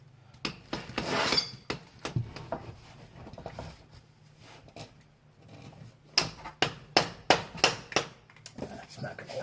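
Metal hammer blows strike a seized bolt on a 2005 Ram truck, a few scattered hits early, then a quick run of six or seven sharp, fairly close raps, with some mumbled talk in between.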